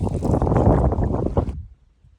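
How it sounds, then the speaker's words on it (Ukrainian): Strong wind buffets the microphone while fishing from a boat, a loud, rough roar for about a second and a half before it abruptly drops away to near silence. "Вітер взагалі не дає ловити рибу, робить закиди ніяк, і я навіть плести не можу проти нього."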